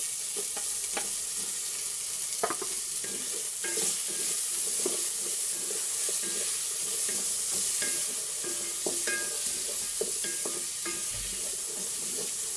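Tomatoes sizzle in a hot pan while being stirred for chicken tinola, a steady bed of frying crackle broken by repeated scraping and clinking strokes of a utensil against the pan, close up and with no talking.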